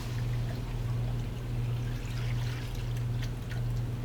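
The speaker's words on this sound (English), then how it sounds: "So give your mixture a mix and then pour it into this curry spice" Oil mixture poured into a curry spice mixture for a kurhi, a soft continuous trickling pour heard close and quiet for a few seconds over a low steady hum, with no talking.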